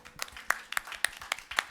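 Scattered rhythmic clapping from a church congregation during a Korean Sunday worship service, a handful of distinct claps spaced about a quarter second apart, fairly faint and close.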